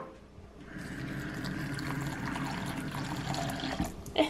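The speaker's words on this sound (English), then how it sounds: "Fill that up with water." Tap water runs steadily into a bowl of Quaker oats for about four seconds, a close, even rushing pour that ends with a brief clink near the finish.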